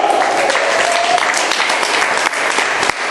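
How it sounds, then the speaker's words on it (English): Audience applause for Joe-Lui at a Fremantle gig, a dense, steady wash of clapping from a crowd, with a faint voice briefly over it near the start. "Give me an applause, Joe!"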